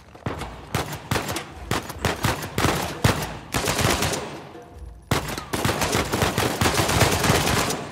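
Rapid bursts of gunfire from a firefight in the video game Uncharted 4, loud, close shots and automatic volleys crackling throughout with a brief lull before another sustained barrage.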